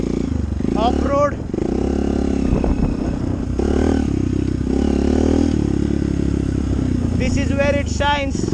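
A Hero Impulse motorcycle ridden off-road on trails, its engine droning and revving in uneven surges with clattering and scraping from the rough ground, loud and close, with someone talking over it at times.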